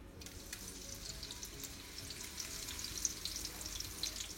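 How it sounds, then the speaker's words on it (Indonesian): Ground spice paste sautéing in 4-5 tablespoons of cooking oil in a non-stick wok, stirred with a heat-resistant silicone spatula; a steady, soft sizzle and crackle runs alone throughout. "tumis bumbu yang sudah dihaluskan"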